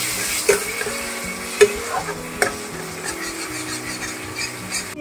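Chunks of mutton tumble into hot oil for kosha and get stirred, a steady sizzle with several sharp scraping clatters of the spoon against the pan, close and alone.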